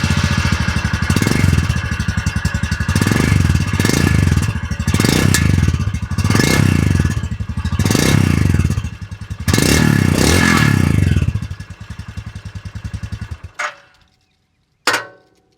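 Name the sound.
Royal Enfield Scram 440 motorcycle exhaust note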